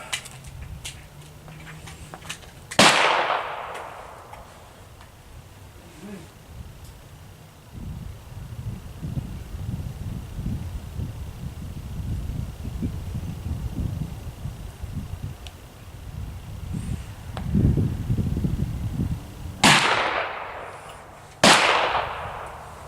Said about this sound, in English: Now I'm going to shoot 2 more 3-round groups, a 6-shot group at 100 yards.